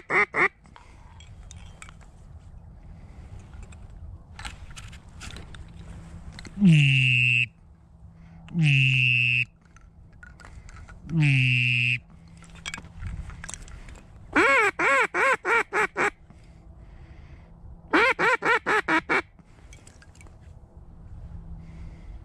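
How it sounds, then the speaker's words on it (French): Mallard ducks quack in loud, repeated bursts near a frozen lake, each call a harsh descending series, some rapid strings of short quacks, separated by quiet gaps with faint background noise. "il y a une bande de colverts qui viennent passer là."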